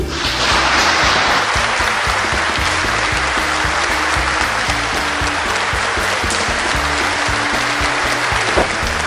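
An audience at the announcement of the Kyiv city administration head breaks into sustained applause, a loud, dense wash of many hands clapping steadily throughout, with faint voices beneath.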